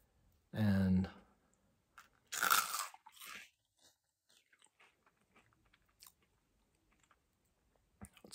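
Loud crunching bites from a crisp snack, a couple of sharp bursts followed by quieter chewing clicks, close to the ear.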